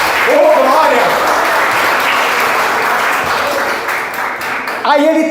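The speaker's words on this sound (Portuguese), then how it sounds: "Tem que dar salve de palmas para Ele." A church congregation applauds for Jesus with loud, sustained clapping that fills the room for about five seconds, while a voice speaks over the start and the end.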